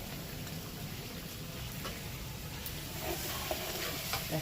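Lote fish jhuro being stirred in a pan, a steady soft sizzle with scraping stir strokes, close and continuous without talk.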